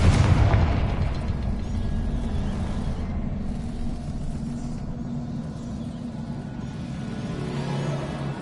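A fire spell explosion in the game Hogwarts Legacy, a heavy booming blast at the start followed by a long, rumbling low roar that slowly fades but persists to the end.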